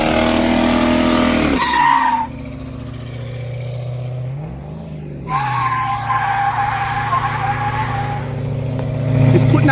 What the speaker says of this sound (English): let me get on the right side of the burnout for once.